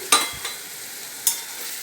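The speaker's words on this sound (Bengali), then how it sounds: "চিনি দিয়ে এটা নেড়ে চেড়ে নিয়ে হয়ে যাবে ব্রাহ্মী শাক ভাজা" A spatula scrapes through brahmi greens frying with a little sugar in a pan over low heat, giving a few quick stirring strokes over a soft, steady sizzle.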